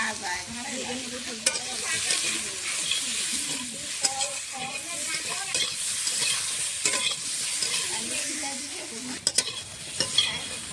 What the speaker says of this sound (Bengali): সবজিটা ভাজা হয়ে গেছে, নামিয়ে নিচ্ছি।